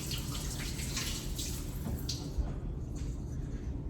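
Hands are washed under a running kitchen tap during cooking, with steady splashing water and faint intermittent clatter, close and continuous with no talking.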